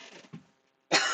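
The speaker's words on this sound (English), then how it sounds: "Just have a little cough" A woman gives a short cough in two quick bursts, followed by a brief pause and then a louder, breathy rasp as she clears her throat.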